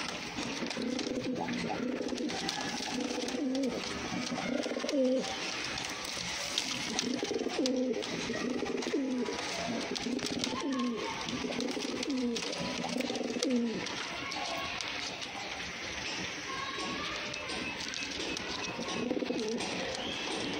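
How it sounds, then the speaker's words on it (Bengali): Pigeons cooing in a steady series of low, rolling calls, repeating throughout against a busy background hiss. "এটাও পুরান জাতের"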